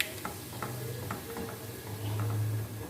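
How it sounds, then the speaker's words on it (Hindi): Cumin seeds frying in oil, giving a soft, faint sizzle with a few light ticks and spoon scrapes against the pan, close up and without talking. "अब हम इसमें शामिल करेंगे अपना ज़ीरा। हल्का सा फ्राई होने तक"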